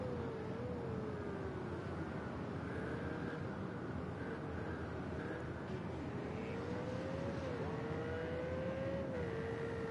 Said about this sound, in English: As he abuses his engine running at the rev limiter up towards the chicane.